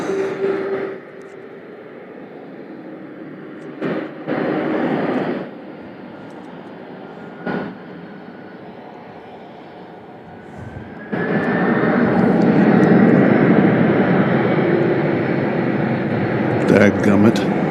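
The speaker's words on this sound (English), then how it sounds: "The plane taking off now is UPS flight 2692 headed to Las Vegas." A UPS cargo plane at Louisville International Airport rumbles in a broad distant roar that swells loud partway through, with someone talking in brief stretches over the opening and under the engines.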